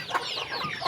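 Close, clucking chicken, a rooster ready to leave its coop, making short throaty calls in a quick rhythm over a brief moment.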